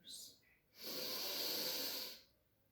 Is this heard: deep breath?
yes